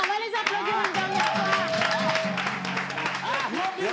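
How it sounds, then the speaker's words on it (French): A studio audience at a talent show applauds the performers with brisk clapping, moderately loud, while voices talk and call out over the clapping throughout. "On va les applaudir une dernière"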